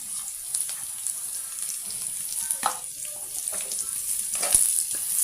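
Food frying in a pot for chicken biryani after salt is added, with a steady broadband sizzle and intermittent scraping stirs, close and moderately loud, no talk.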